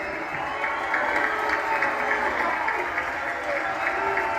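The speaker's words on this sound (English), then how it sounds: "I would like everyone to give Turki Al-Ashik a hand and a round of applause" A crowd at a boxing press conference for Canelo vs. Crawford applauds loudly and continuously, with a dense steady wash of clapping and faint voices mixed underneath.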